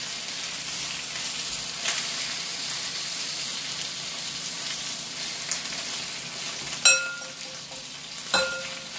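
Salmon sizzles and fries steadily in a pan, a continuous close crackling hiss with a couple of sharper pops or utensil taps near the end, no voices.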